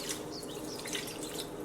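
Water poured into a pot to steam fish with bay leaves and garlic salt, a steady broadband trickling splash running continuously at low level throughout.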